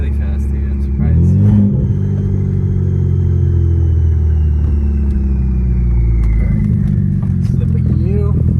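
An upgraded-turbo BMW 335i with the N54 engine accelerates hard from inside the cabin, a loud deep engine rumble with quick gear shifts audible as pitch drops, while occupants talk over it.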